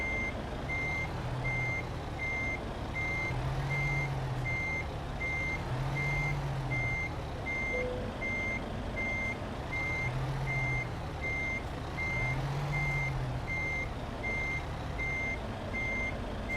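Reversing truck in Euro Truck Simulator 2, its backup alarm beeping steadily at an even rhythm above a constant low engine drone, with a few short low tones mixed in and no speech.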